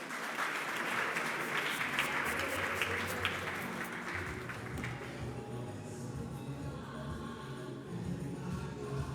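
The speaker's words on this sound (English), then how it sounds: "can we give him a round of applause, please?" Steady applause from the audience at a Free State SMMEs and co-operatives partnership dialogue, dense clapping in a hall that fades gradually over several seconds, heard somewhat distant.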